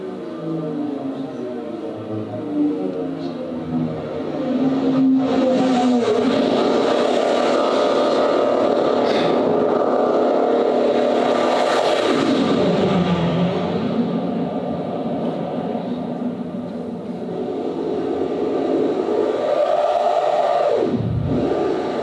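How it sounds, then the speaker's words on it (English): Isle of Man motorcycle race engines roar and sweep in pitch, time-stretched into a warped, droning rumble that swells and dips over a long stretch. "Isle of Man motorbikes through time stretching"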